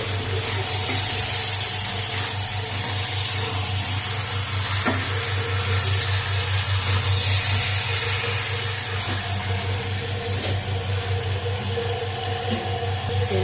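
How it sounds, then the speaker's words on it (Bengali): A little water poured into nearly cooked chicken in a hot pan: a loud, steady hissing sizzle over a low hum, with a few sharp taps, continuous and close for the whole stretch. "একটু জল দিয়ে দিচ্ছি, সামান্য জল দিয়ে দিয়েছি।"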